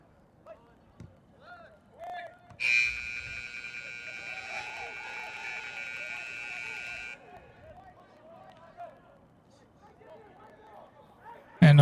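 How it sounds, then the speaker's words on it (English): A stadium buzzer sounds during a UPSL Premier Division soccer match between FC Birmingham and Potros FC, a loud, steady electronic blare lasting about four seconds that rises over background voices and crowd murmur, then cuts off. "a little bit of confusion as the buzzer went off in the stadium"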